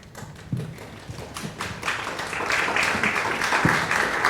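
A forum audience breaks into applause that starts with a few scattered claps and thumps, then swells into steady, dense clapping from the room through to the end.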